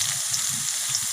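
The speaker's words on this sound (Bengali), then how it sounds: "দিয়ে আলু পেঁয়াজটা ভালো করে ভেজে নিচ্ছি।" Potato and onion fry in hot oil with bay leaf and cumin, a steady close sizzle with soft crackling and gentle pulses of spattering throughout.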